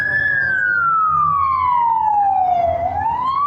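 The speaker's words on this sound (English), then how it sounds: "it's a fire engine" A fire engine siren from the Avondale Fire Department passing in a city street, one long loud wail sweeping slowly down in pitch and then rising again, close and dominant over road rumble.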